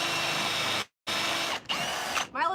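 Power drill driving screws into a salvaged barn door coffee table, three close, loud whirring bursts with short pauses between them, the last ending in a brief ratcheting stutter.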